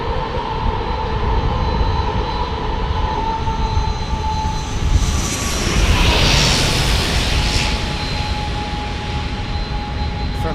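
An ATR turboprop airliner flies past near San Diego airport on a short flight from Tijuana. Its steady engine drone carries propeller tones, swelling briefly as it passes close and loud with no talk.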